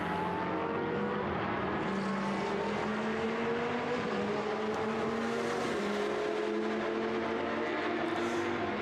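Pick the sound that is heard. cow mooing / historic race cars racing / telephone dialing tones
historic race cars racing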